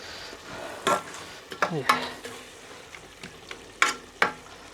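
Beef liver fries with green chilies in a pan while it is stirred, bringing scattered sharp scrapes and clanks of a utensil over a soft, low sizzle.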